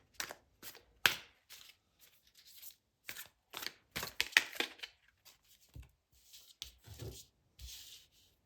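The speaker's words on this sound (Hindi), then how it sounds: "तो हम कर लेते हैं कार्ड्स को शफल" An oracle deck of cards is shuffled in quick bursts of papery riffling and taps, close and quiet, with short pauses in between.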